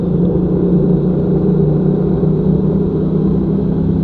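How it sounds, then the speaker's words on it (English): Sidecar motorcycle engine held at steady revs inside a tunnel, a loud, continuous low rumble with a boomy, enclosed quality and no talk. "Let's rev it up a little bit in the tunnel."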